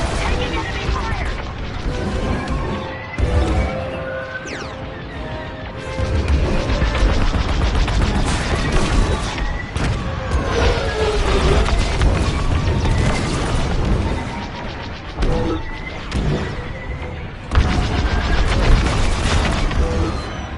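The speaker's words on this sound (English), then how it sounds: "Taking enemy fire!" Blaster fire and explosions in a Star Wars: Squadrons space dogfight, with repeated loud booms and crashing impacts over a dense combat soundscape and intermittent radio chatter.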